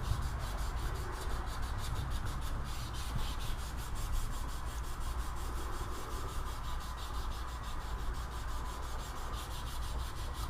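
Hand sanding a knife blade with 800 grit sandpaper, a steady close rasping rub repeating in quick even strokes without pause, with no talk.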